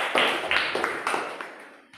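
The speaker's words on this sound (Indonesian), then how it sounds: "Tepuk tangan untuk Mbak Lili dan Mas Abdan." Applause from a small group of children in a classroom-style Ramadan program: a short burst of quick, bright claps that fades over about two seconds.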